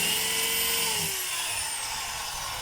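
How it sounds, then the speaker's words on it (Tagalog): A DeWalt D25133 rotary hammer whines steadily in drill mode, a loud, continuous high-pitched motor hum close by, its pitch sliding slightly downward as it runs. "Ayan, naka-drill po yan."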